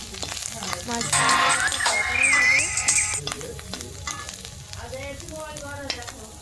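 Mushroom curry sizzling and frying in a pan in a village home kitchen, a steady crackle with stirring, while other household sounds and a whistling or animal-like tone rise over it.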